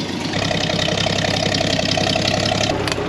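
An old Land Rover 109 engine runs close and loud on its first drive in decades, a steady knocking, rhythmic mid-low idle chug that holds evenly throughout with no talking.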